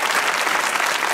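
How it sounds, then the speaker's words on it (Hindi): Studio audience applause on a comedy talk show, a dense, steady wash of clapping filling the whole moment without a break. "ये तालियां हारने वाले के लिए हैं।"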